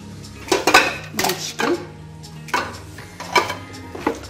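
Pieces of chicken are set into a couscoussier steamer pot beside onion and oil, giving a few close clanks and clinks of metal pot and utensils in short separated bursts.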